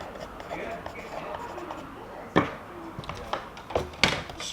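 A blade scribes around the edge of a camper van door panel in short, scratchy strokes with a few sharp knocks, fairly close and moderately loud.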